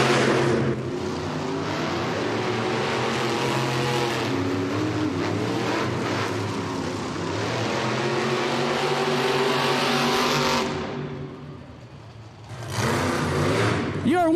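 Monster trucks racing at a Monster Jam stadium event in Albuquerque, with loud, sustained engine roars that rise and hold, dip briefly, then surge again, while an announcer talks over the noise.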